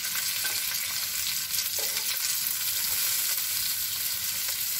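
Okra frying on a tawa as chili, turmeric and garam masala are stirred in, a loud, continuous hiss and sizzle with faint scraping of the stirring underneath and no voices.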